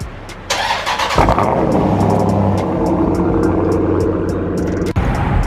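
An SRT8 Jeep's warm engine cranks briefly and catches, then settles into a loud, steady, rumbling idle close by, with a short blip near the end.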